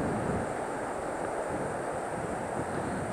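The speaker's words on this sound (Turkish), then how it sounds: "Solunuzda belki sesin duyuyorsunuzdur. Akan bir nehir var sol tarafta." A river continuing on from Kaname Waterfall near Hitoyoshi rushes with a steady, dense broadband roar, constant and unbroken throughout.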